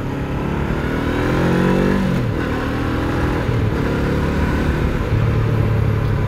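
A motorcycle ridden hard, its engine revving up through the gears with rising pitch sweeps, a brief drop and renewed acceleration, close and loud throughout.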